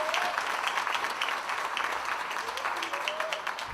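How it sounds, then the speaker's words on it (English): An audience applauds Councilwoman Andrea Hall at a recycling company's 25th anniversary celebration, dense steady clapping filling the room at moderate distance, with a few voices mixed in. "I want you to give her a round of applause"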